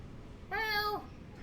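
A pet cat at a window gives a single short, quiet meow lasting about half a second against faint room hiss.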